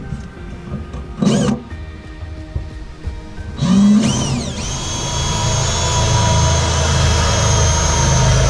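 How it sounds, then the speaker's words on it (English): A power drill spins up in brief bursts, then runs with a loud, sustained whine. The motor pitch sweeps as it bites into the material. "So now I'm going to drill. Start off with a small hole, work my way up to the big one"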